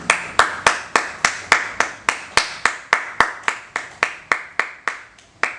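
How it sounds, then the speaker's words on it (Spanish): A church congregation claps together in a steady, even rhythm, about three claps per second, loud and close. The clapping carries on for several seconds and thins out slightly toward the end. "Un aplauso al Señor por sus vidas."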